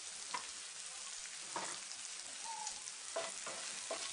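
A potato fry with turmeric sizzles quietly in a pan while a spoon stirs it, giving soft scraping strokes at irregular intervals over a faint frying hiss.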